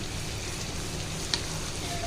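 Palm fruit fritters (taler bora) fry in a pan of oil with a soft, steady sizzle, quiet and close, broken by one brief clink near the middle.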